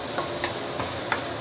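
Dried chili paste sautés in a pan over medium heat, a continuous bright sizzle broken by a few soft scraping stirs at irregular intervals, close and moderately loud, with no voices.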